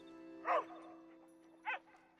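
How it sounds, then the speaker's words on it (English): A pet in a video game gives two short, sharp barks about a second apart over a faint steady hum. "Bark."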